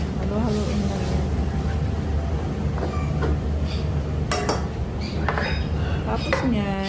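Bean sprouts and Baguio beans stirred in a pan, with metal utensil scrapes and clinks against the cookware over a steady sizzle, a voice talking throughout.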